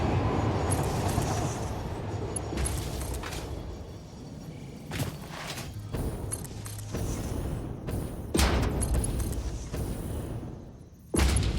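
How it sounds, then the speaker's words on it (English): A train in a factory-building game rolls back in as a steady low mechanical rumble, with occasional thumps and whooshes rising over it as it approaches. "Sounds like the train is returning"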